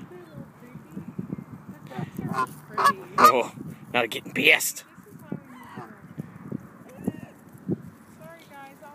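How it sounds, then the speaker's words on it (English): Two geese honk loudly and repeatedly at close range, harsh bursts clustered in the middle amid fluttering and scuffling, with someone talking over them. "these two geese have me backed up into the wire"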